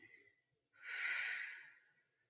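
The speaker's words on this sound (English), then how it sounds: "And slowly exhale." A single slow, audible exhale during a calming breathing exercise, a soft breathy rush that swells and then fades away, close and gentle, after a brief faint murmur.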